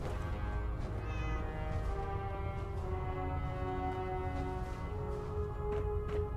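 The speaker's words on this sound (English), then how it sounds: "A real cat, or is it my cat?" A cat meowing inside the Fallout 4 video game, heard over a steady, loud droning ambient background with tonal hums, the cries faint and intermittent rather than sharply separate.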